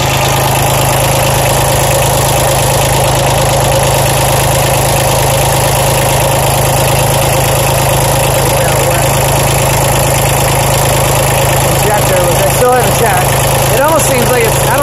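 A Mitsubishi K3D diesel idling on a 1993 Toro Groundsmaster 325d mower: loud, constant, close clatter and drone with a steady low hum, slightly wavering near the end.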